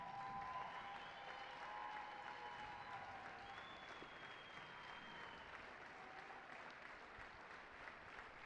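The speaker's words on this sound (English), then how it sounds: "Ladies and gentlemen, one more round of applause for the Anderson Trojans." Audience applause in a gym at a college volleyball championship award ceremony, steady distant clapping sustained throughout at moderate level with no voices over it.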